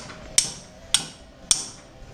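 Three sharp metallic hammer strikes on an SR20DET welded differential ring out at an even pace, each a bright clang that decays quickly, fairly close with quiet between hits.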